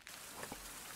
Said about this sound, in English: Oh, and it's raining.